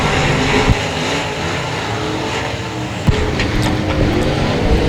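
Race cars roar down the front straightaway at a dirt-track heat race, a loud continuous engine drone with a couple of sharp bangs as cars pass close.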